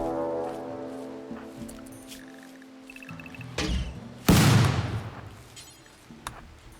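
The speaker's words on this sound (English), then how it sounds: "Why do I have the smoke gun firing there?" A smoke gun fires in the video game RimWorld: after quiet tones, a few soft thuds build to a loud, sharp burst followed by a decaying hiss and a final small pop.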